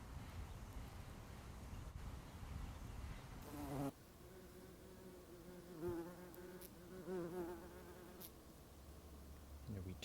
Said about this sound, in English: that bumblebee is trying to collect nectar from as many flowers as it